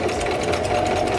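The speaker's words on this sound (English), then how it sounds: "I'm going to do a zigzag stitch along the edge of my fabric to hold all these loose strings in" A sewing machine runs a zigzag stitch along the raw edge of a fabric bread bag, a loud, continuous, even mechanical whirr and rapid needle clatter heard up close with no voices.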